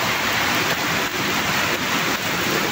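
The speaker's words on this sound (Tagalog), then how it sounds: "mukhang humihina na ang ulan" Heavy rain pours down during an early-May downpour, a thick, unbroken roar of falling water that stays loud and constant throughout with no voices.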